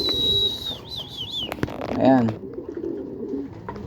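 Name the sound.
racing pigeons cooing in loft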